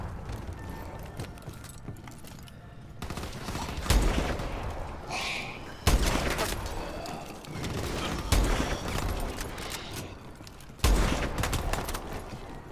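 Blunderbuss fire in Advanced Warfare Zombies, the Descent map: four heavy booming shots spaced a couple of seconds apart, each a sharp loud blast with a short tail, over a busy game background of mechanical clatter.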